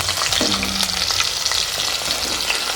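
Chopped onion dropped into hot oil for an eggplant curry sizzles and crackles steadily up close, a dense, constant frying hiss with no voices over it.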